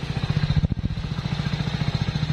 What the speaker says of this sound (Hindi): अब साइलेंसर की आवाज़ सुनते हैं।